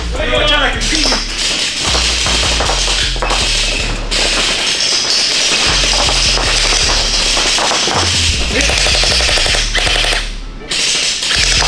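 Gel blasters firing in rapid, continuous bursts during an indoor gel blaster war, loud and dense throughout with constant clatter and occasional shouts mixed in.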